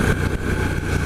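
A 2017 Triumph Street Scrambler motorcycle engine runs in a brief, steady, fairly loud burst with a low rumbling tone and no talking.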